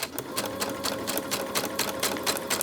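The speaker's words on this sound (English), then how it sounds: "So I'm just carrying on with my stitch, my straight stitch, going over in a angled manner." A sewing machine runs a straight stitch in a fast, even mechanical rattle with regular needle beats, close and continuous throughout.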